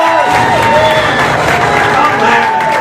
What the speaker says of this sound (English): can we give Layla a round of applause